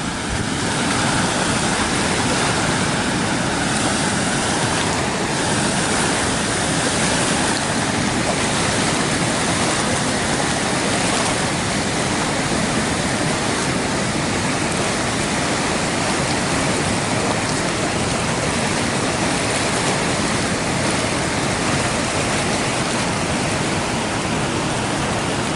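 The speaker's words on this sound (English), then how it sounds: "Maybe the trouts are over here where the water's moving fast." Fast-moving stream water rushes steadily around a fishing spot where trout are sought, a loud, unbroken broadband wash that stays constant throughout with no voices.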